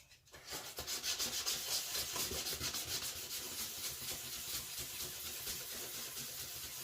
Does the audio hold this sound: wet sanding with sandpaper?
yes